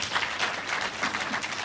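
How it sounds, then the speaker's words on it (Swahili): A political rally crowd in Kalau clapping, a brief burst of dense, scattered applause at moderate distance, steady for under two seconds. "Pigieni makofi watu wa Kalau."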